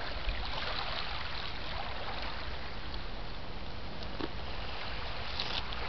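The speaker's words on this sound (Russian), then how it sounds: "приятно услышать плеск воды." A winter stream splashes and trickles steadily at -6°C, a continuous, fairly close wash of flowing water with no talk.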